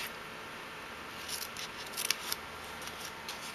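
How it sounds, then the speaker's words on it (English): Scissors snip through paper in a craft setting, giving a few faint, quick cuts over a steady background hiss. "I'm just going to snip this."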